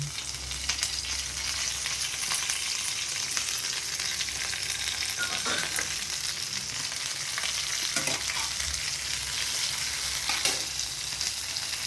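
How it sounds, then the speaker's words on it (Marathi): Green chillies and curry leaves sizzle loudly in hot oil with cumin and mustard seeds, a continuous close crackle broken by a few sharper spatters and stirring scrapes, no one talking. "मिरची टाकून घ्यायची. कढीपत्ता थोडा टाकायचा."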